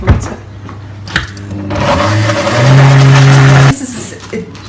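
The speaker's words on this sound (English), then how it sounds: "You just blitz it up in the food processor, and then it's ready to use." A food processor blitzes basting for a vegan Greek-style roast, its motor whirring loudly and rising in pitch over a few seconds before stopping, with clatter and room noise around it.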